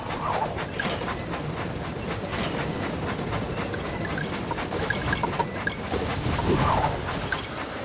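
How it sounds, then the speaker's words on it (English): A video game train engine rolls along its tracks with a steady rumbling clatter and rhythmic clickety-clack, loud and continuous, with occasional louder bursts and no voices. "Clear the tracks. Engine coming."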